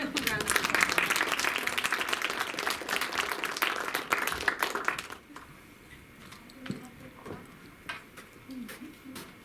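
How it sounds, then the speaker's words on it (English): An audience claps for a student presenter at a medieval-themed event, a dense, lively round of applause that stops abruptly about halfway, leaving quiet room noise with a few stray claps and faint voices. "please give her a big round of applause"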